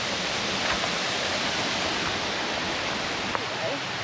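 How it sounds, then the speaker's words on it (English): Steady broadband rushing of a jungle waterfall, a constant loud wash of falling water with no break across the few seconds. "Waterfall, yeah?"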